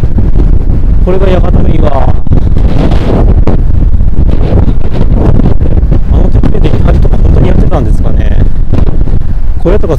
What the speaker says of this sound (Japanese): お、結構風吹いてるな。